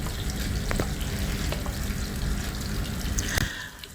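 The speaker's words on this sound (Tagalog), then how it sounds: "pag nainit na yung mantika, ilagay na natin una yung sibuyas" Onions fry in hot oil as a continuous close sizzle, with a few light clinks of a utensil against the pan.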